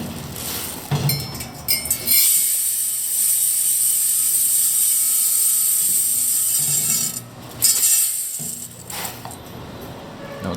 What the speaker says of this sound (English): we're going to test this filling machine with some rice